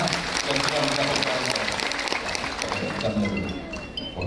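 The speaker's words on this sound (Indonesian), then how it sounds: "Tepuk tangan buat Renner ya" Applause from a seminar audience on Islamic MLM business: a sustained, loud patter of many clapping hands that eases slightly toward the end, with voices faintly mixed in.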